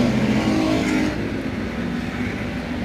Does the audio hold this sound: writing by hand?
no